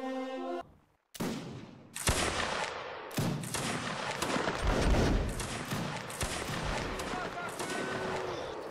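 Musket volleys from a line of soldiers in the Napoleonic Wars video game, a sudden loud ragged crash of many shots followed by a continuing crackle of scattered fire, with voices faintly underneath.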